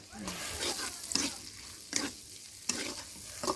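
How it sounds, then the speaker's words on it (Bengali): Bitter gourd pieces frying in soybean oil in a village kitchen at night, a soft low sizzle broken by several sharp scraping stirs of a spatula in the pan. "এটা সয়াবিন তেল এই যে তেলানি হয়ে গেছে তো করলা ভাজি তেলানি দেওয়া হচ্ছে"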